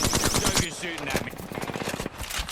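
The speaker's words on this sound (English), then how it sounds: "Joker's shooting at me." Rapid bursts of automatic gunfire from enemies in a Joker-themed shooter game crackle loudly and near, with short overlapping volleys and scattered single shots; a voice talks over the shooting.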